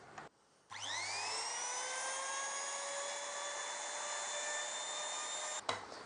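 An electric router spins up with a rising whine and cuts a shallow recess in wood for veneer on a marquetry box. The high, steady motor tone runs for about five seconds, then cuts off abruptly.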